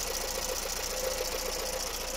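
A Peugeot 504 engine idles steadily after a cold morning start, fitted with an aftermarket fuel-injection ECU. The close, even mechanical thrum and ticking are loud and continuous throughout, with no talking.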